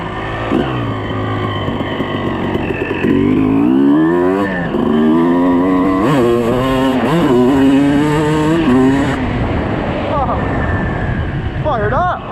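A 2006 Suzuki RM250 two-stroke motocross bike revs hard nearby, engine pitch climbing and falling in repeated throttle blips and sustained wails, with wind noise over the microphone.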